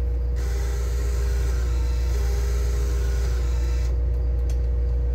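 Printer running a test print, a steady close mechanical whir with a fine rapid ratcheting texture over a constant low hum, continuing unbroken throughout.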